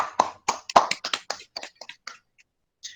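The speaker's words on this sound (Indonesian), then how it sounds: "Tepuk tangan untuk kelompok 2" Applause for group 2 after a classroom presentation: several pairs of hands clap briskly and close by, then thin out to a few scattered claps before fading.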